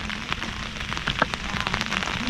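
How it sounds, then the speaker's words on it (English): Autumn rain falls steadily outdoors at Niagara-on-the-Lake, Canada, with close, dense patter and irregular sharper drips striking surfaces, and a faint low hum underneath and no voices. "It's raining also."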